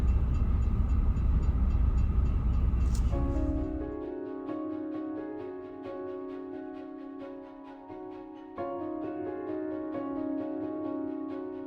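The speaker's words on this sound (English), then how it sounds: "Well, now I know there's an active train here." A loud rumbling train passes close by, then fades into a steady whining hum of rolling wheels and horn-like tones that swell again near the end.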